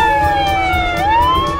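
An ambulance siren sound effect wails loud and close, its pitch sliding down and then sweeping back up.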